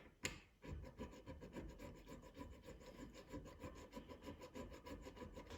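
A fine file rasps back and forth over a guitar fret in quick, even strokes, close and quiet, with a brief knock at the start.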